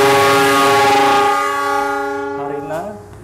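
A train horn blares long and loud as a train passes at Tegal station at night, holding a steady harmonic tone that fades and dips in pitch toward the end.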